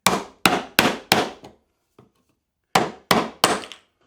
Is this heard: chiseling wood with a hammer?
yes